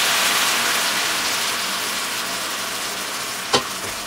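Dried fish (tuyo) frying in a pan for pork adobo gives a steady broadband sizzle and hiss that fades slightly over time, with one sharp brief crackle or tap near the end.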